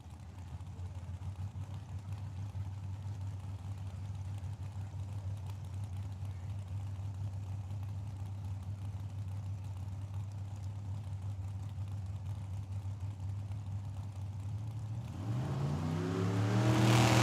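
Drag racing cars, a '55 Chevy and a Camaro, idle with a steady low rumble at Tucson Dragway, then rev and accelerate hard near the end.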